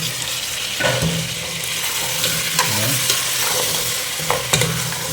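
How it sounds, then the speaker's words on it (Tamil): Half a kilo of mutton pieces sizzling in hot oil for a mutton gravy: a loud, steady crackle close by, with a few sharp spoon-on-pan clinks and scrapes and no voices. "மட்டன் போட்டாச்சு அது எண்ணெய் அப்படியே பிடிக்கணும் ஸோ ஒரு அஞ்சு நிமிஷம் கொஞ்சம் வதங்க"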